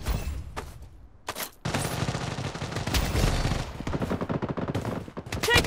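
Rapid bursts of automatic gunfire in the mobile shooter Blood Strike, dense and loud, with brief pauses between volleys and a final clattering burst near the end.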